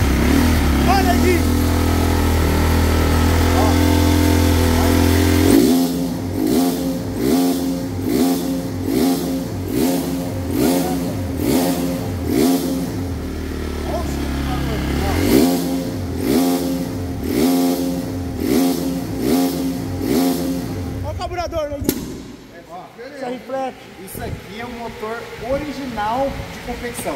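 A stock Yamaha R15 sport motorcycle, original engine and exhaust, revs hard on a dynamometer. The engine climbs through repeated rising pulls with a steady whine, then cuts off abruptly with rough popping as it winds down.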